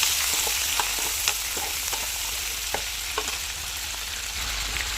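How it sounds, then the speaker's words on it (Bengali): Prawn pieces fry in oil with a loud, dense continuous sizzle, punctuated by occasional soft pops and light stirring taps close by. "একই তেলে চিংড়িটাকে একটুখানি ফ্রাই করে নেবো"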